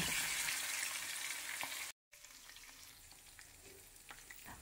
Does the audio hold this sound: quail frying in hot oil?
yes